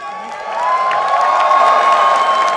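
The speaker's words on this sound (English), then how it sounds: "One more round of applause for these two teams." A packed arena crowd at the ESL One New York 2014 Dota 2 grand final roars and claps for Evil Geniuses and ViCi Gaming, with cheers and whoops that rise after a moment into a loud, sustained wash.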